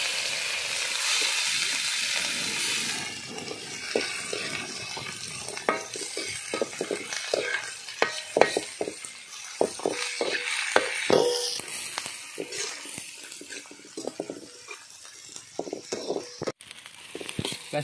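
Onions fry in hot oil with mustard and fennel seeds for bread samosa filling, a crackling sizzle with frequent sharp stirring scrapes that grows busier midway, near and without talk.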